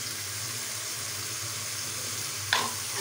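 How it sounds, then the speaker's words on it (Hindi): Chicken karahi masala with tomatoes and black pepper frying in a pan, a steady soft sizzle with a low bubbling hum throughout and a brief sharper clink near the end, no talking. "फिर इसे फ्राई करेंगे।"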